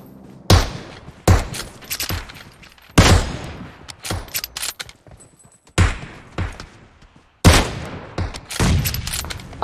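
Gunfire in PUBG war mode, Kar98 rifle match: loud, sharp shots and short volleys strike in separate bursts with gaps between, each one ringing out and decaying.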